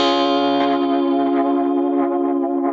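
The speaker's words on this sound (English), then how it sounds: "the delay line is kind of a little bit more saturated, as though the tape has aged or degraded." A held synth tone smeared by a Chroma Console saturated, tape-like delay with drift modulation, its repeats drifting and wobbling slightly in pitch, steady and loud throughout.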